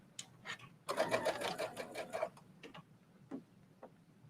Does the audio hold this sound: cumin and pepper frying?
no